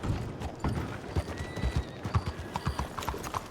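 Hooves of a large horse clip-clop in a video game, a steady run of fairly close, moderately loud strikes with a soft whinny-like tone in places.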